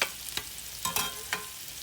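Onions fry in a skillet with a low, steady sizzle, broken by a few short scraping stirs of a utensil spaced through the brief moment, close and fairly quiet with no talking.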